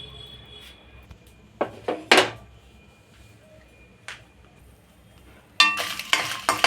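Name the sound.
dry roasting dried red chillies, garlic and asafoetida in pan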